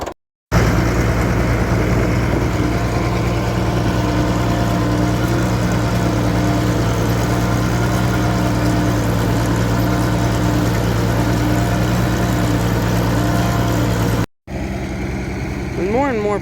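A tractor engine runs steadily and loudly while raking hay after a sprocket repair, a continuous low mechanical drone close by with a brief cut near the end.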